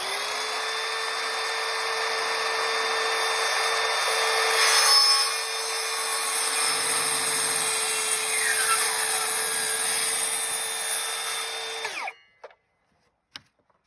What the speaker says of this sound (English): and then we'll cut the diagonal off now.